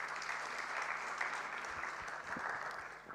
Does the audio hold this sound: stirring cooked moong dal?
no